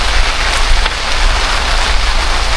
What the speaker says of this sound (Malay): Hujan je pun.